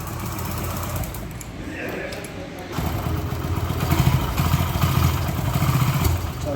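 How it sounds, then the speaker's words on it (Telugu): A 2005 Hero Passion Plus motorcycle with a newly installed ACG starter system is self-started, its engine catching partway through and settling into a steady, close, rhythmic low idle that grows slightly louder toward the end. "ఇక్కడ ఈ కిల్ స్విచ్ ఆన్ చేసి ఇప్పుడు సెల్ఫ్ స్టార్ట్ చేస్తాను."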